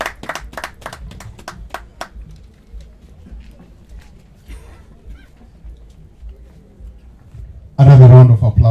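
Audience clapping at the opening ceremony of a regional NGO expo and winter school: a short run of sharp, separate claps dies away within two seconds, leaving a quiet room before a voice begins near the end.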